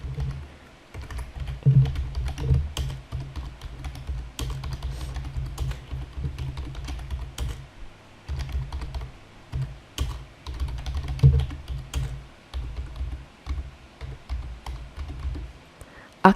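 A title is typed on a computer keyboard in Word 2013, a long run of quick, close key clicks in uneven bursts with short pauses, no talking.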